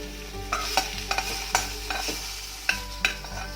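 Onion and tomato masala for onion karam dosa fries in a pan, a spoon scraping and clacking through it in irregular strokes over a low steady sizzle, close up with no voices.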